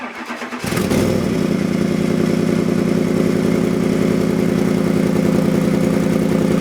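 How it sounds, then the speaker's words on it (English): A 2008 Ford Expedition engine catches after a brief crank and settles into a steady, loud idle close by, with a fast rhythmic ticking from an exhaust manifold leak running through it. "Definitely hear that exhaust leak probably from the manifold."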